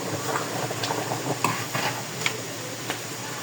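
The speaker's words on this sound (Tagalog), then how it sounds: "haluin lang natin" Pork sinigang with taro being stirred in a pot, giving soft scraping and stirring noise with occasional sharp clicks of the spoon against the pot over a steady simmering background.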